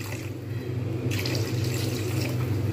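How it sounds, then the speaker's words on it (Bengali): Lukewarm water is poured into a pan of potato curry, a continuous splashing stream heard close and fairly faint, growing slightly brighter partway through. "এইবার আমি এর মধ্যে দিয়ে দেবো পরিমাণ মতো জল।"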